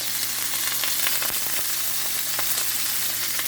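A New York strip steak sears in garlic-infused oil in a large warped pan, giving a loud, steady, close sizzle with occasional pops and crackles throughout.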